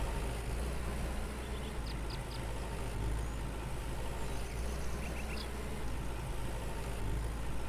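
A dirty farm tractor idles steadily in Farmer's Dynasty, a continuous low engine drone with faint higher clicks drifting over it.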